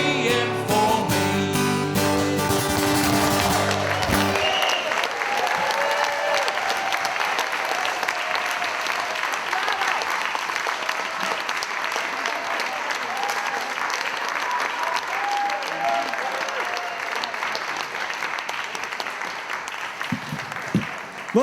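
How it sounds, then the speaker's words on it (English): An audience at a Labour awards night applauds loudly and steadily for the whole stretch, dense clapping from a crowd, with music fading out at the start. "Rob Johnson, a round of applause for Rob Johnson."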